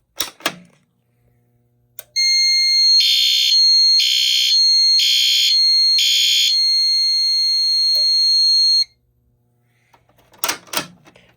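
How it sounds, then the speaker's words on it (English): A loud fire alarm sounds during a walk test of a Silent Knight IFP-50 panel in a commercial building system, a steady electronic tone with four pulsing bursts in the middle, then stops abruptly. "it'll briefly test the alarms whenever I pull it, the alarms"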